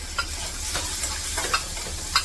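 Steady sizzling of onion frying in oil, punctuated by light scraping stirs every half second or so.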